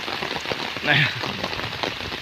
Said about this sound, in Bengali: সেই বৃষ্টি কিন্তু এখন আবার রীতিমতো কিন্তু শুরু হয়ে গেছে